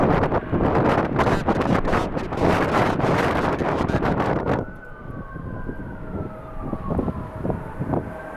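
Strong wind buffets the microphone at LAX airport, loud rough gusting for several seconds before it drops, leaving a distant siren wailing and falling beneath softer gusts.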